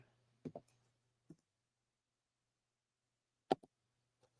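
A few sparse, quiet clicks of keys on a computer keyboard, in two brief clusters separated by a long silent pause, heard close against a faint low hum.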